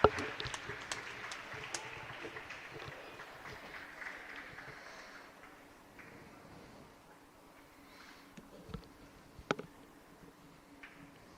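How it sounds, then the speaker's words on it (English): Applause for wrestling seniors and their families rings through a school gym at a double dual meet. Many people clap in a steady patter that slowly thins and fades, with a few scattered claps near the end. "Let's have a final round of applause for both of our 2024-25 wrestling seniors and their families."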